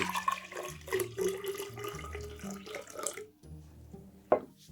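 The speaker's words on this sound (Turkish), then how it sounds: "Önce su ekliyorum. Manyetik karıştırıcımın içerisine suyu" Water runs from a tap and pours into the vessel of a magnetic stirrer, a close, fairly quiet splashing stream with clinks, stopping near the end before a brief knock.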